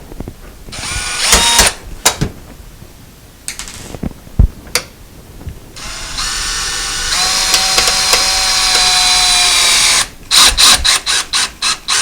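Power drill driving screws to secure a dishwasher under a counter, with loud close bursts of whirring and clicking, a long sustained drive in the middle, then a rapid series of short trigger pulses at the end.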